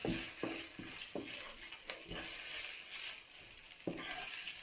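Poha (flattened rice) with turmeric stirred in a pan over a light sizzle, with a run of scraping strokes and sharp spoon knocks against the pan at irregular intervals.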